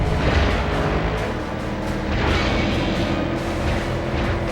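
Heavy booming explosions rumble over continuous driving game action noise in Stuntman: Ignition on PS2, with deep bursts layered under engine roar and no speech.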